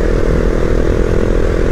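A Husqvarna Vitpilen 701 single-cylinder motorcycle roars steadily while riding, a loud, close engine drone with a throbbing low rumble and no voices.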